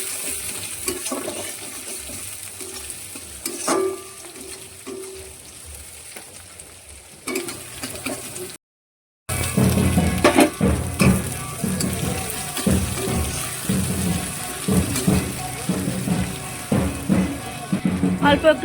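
Chopped ginger, garlic and green chili fry in a hot pan, a loud crackling sizzle with scraping stirs. Quieter frying comes first, a brief silence follows, then a louder, busier sizzle as the pieces are added and stirred.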